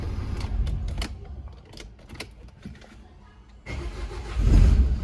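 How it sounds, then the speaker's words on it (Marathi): A car's engine is restarted after it had trouble starting and was expected to need a jump start. Sharp clicks and clatter come first, then the engine turns over and catches with a louder rumble near the end. "आता 2दा चालू केली मी गाडी तर चालू होते"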